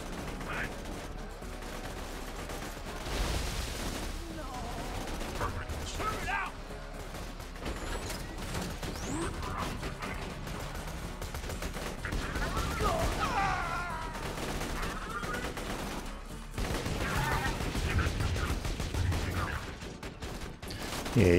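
Rapid gunfire from weapons in Borderlands 2, fired by an Axton build during a boss fight, crackling in dense, continuous bursts mixed with game effects and mechanical clatter throughout.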